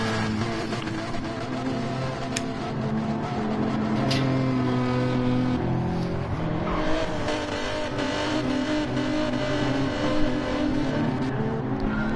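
Racing car engine in a video game played on a Thrustmaster T248 wheel, revving hard and holding a loud, steady roar with shifting pitch throughout, with brief tire squeal at times.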